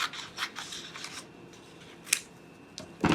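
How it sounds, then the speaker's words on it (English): Scissors snipping freeform shapes from green paper during an art project, a series of close, crisp cuts and rustles spaced unevenly, with a louder snip at the end. "maybe cut some of my green paper."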